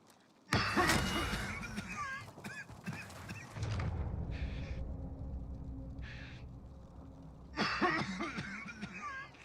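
A player coughs several times during an online Warzone match, loud and close to the mic, with throat-clearing bursts broken by quieter game sounds and brief voices.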